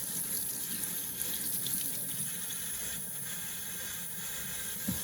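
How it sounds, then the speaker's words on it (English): Hot water runs steadily from a kitchen tap into a sink, a constant close hiss and splash throughout with one faint clunk near the end. "I'm going to run the hot water."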